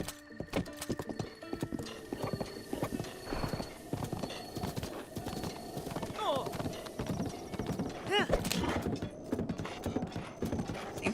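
Horse hooves clip-clop in steady rhythm in Breath of the Wild, with an occasional whinny, while someone talks over the gameplay throughout.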